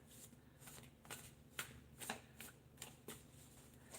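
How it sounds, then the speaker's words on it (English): Tarot cards are shuffled during a live reading, making soft, faint riffling and slapping bursts that repeat at a loose, steady pace. "I'm just shuffling some new cards."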